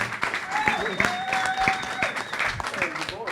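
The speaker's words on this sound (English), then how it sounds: "go on, round of applause, even though he's late" A panel audience at Winterclash, an inline skating event, gives a short round of applause for a late-arriving former pro skater, with scattered clapping under voices and a whoop or two through the few seconds.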